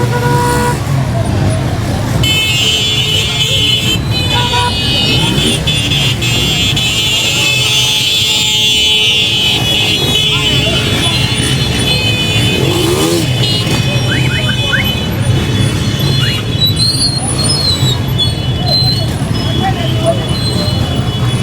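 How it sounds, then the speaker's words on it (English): Motorbikes arriving amid a crowd at a political nomination event in Ghana, engines droning with horn toots and alarm-like tones throughout, loud and close, with people talking over the din. "These are the motorbikes that came."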